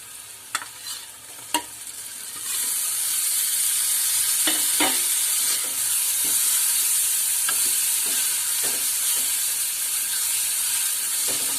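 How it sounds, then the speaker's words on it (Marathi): Tomatoes dropped into hot oil with spicy masala in a pan for a Malvani black peas curry, a few spoon clinks followed by a loud, steady sizzle and hiss with occasional stirring scrapes. "नंतर आपण टोमॅटो टाकूया।"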